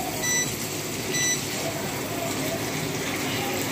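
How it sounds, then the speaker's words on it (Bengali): Water poured from a container into a pan of fried onion and garlic, giving a continuous, fairly close hissing gush that runs steadily throughout. "পেঁয়াজটা যাতে সফট হয়ে আসে সেজন্য আমি পানিটা অ্যাড করে দিলাম।"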